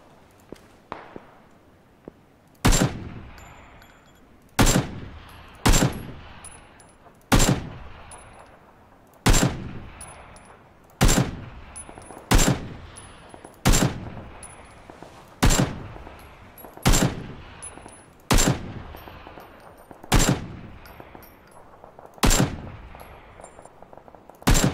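AK rifle shots ring out in PUBG, about fifteen loud, sharp single cracks spaced a second or two apart, each with a short ringing tail, and no talk over them.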